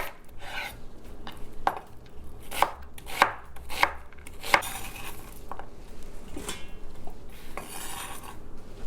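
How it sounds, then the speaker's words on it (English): A knife chops on a cutting board in a series of sharp, irregular taps, close and fairly quiet, with no talking. "there is some chopping involved in this recipe"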